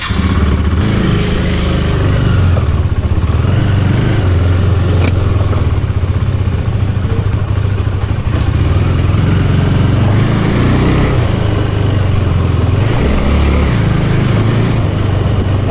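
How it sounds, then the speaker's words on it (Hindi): A motorcycle ridden on a late-night road, its engine droning loud and steady throughout with low rumble and wind noise, close to a chest-mounted camera, no talking. "बाइक स्टार्ट करते हैं।"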